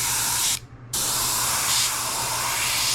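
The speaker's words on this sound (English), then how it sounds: "So you can clean it by cleaning the needle off or, you know, blowing it out." An airbrush blows out in a continuous hissing spray to clear a drying tip, cutting off briefly for a fraction of a second before resuming at full strength, close and loud.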